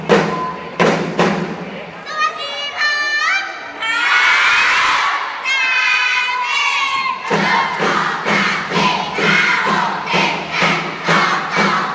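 School cheerleaders and supporters cheer loudly at a youth sports games closing event, with rhythmic group chants, high children's shouts, and regular heavy drum-like thumps close by.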